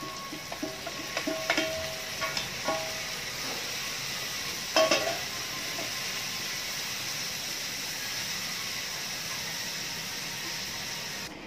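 Shallots and garlic sautéing in hot oil produce a steady, loud sizzle throughout, with a few sharp clicks and pops near the start as they hit the pan.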